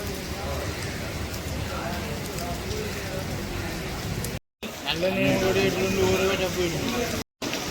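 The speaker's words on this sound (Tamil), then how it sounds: "ஆறாம் தேதி மட்டும் மழை பெய்யும் என்று சொன்ன முன்னிட்டு இப்போ மழை பெய்துன்றது" Heavy rain pours steadily at an outdoor temple festival in Jaffna, where crowds of devotees carry milk pots, making a dense, continuous hiss. A voice talks over the downpour in the second half.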